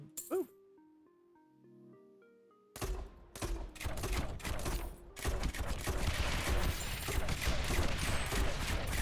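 Mortar towers fire in the tower-defense game Rogue Tower. After a quiet musical lead-in, a dense barrage of sharp blasts and clinking impacts starts and keeps going at a loud, steady level.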